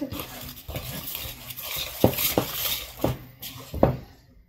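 A spoon stirs brownie batter from a boxed kit in a bowl, repeated scraping strokes with a few sharper knocks against the bowl's side, close and fairly loud.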